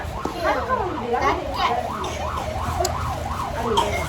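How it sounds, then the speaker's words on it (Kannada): An ambulance siren wails past at the Polali temple fair in a steady rising-and-falling pattern, at moderate distance over crowd noise and nearby voices. "ಆಂಬುಲೆನ್ಸ್ ಪೋನುಂಡು"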